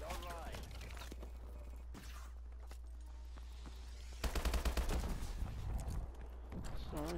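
Gunfire in the video game Call of Duty Advanced Warfare: a rapid burst of shots partway through, over steady game noise, with a voice talking before and after.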